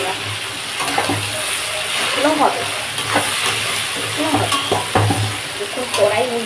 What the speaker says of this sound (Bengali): এই কড়াইতে ভাজতে লাগে